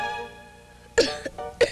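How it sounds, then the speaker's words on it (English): A child coughs in a 1991 Dimetap cold medicine commercial, two or three short, sharp coughs close up near the end after a faint musical hum. "A cough."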